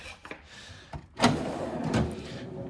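A garage storage drawer slides open with a rolling rumble after a few light clicks and knocks, close and fairly loud, with no talking.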